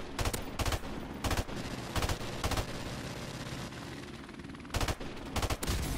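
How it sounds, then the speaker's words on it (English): Gunshots in the video game Modern Warfare Remastered, several sharp rapid bursts of automatic fire separated by short pauses over steady game background noise, with no talk. "Just ignore those shots that I just took"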